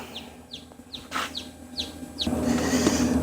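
Newly hatched chicks peeping in a series of short, high chirps repeated about every half second, close by, with soft handling rustles and a low hum rising near the end.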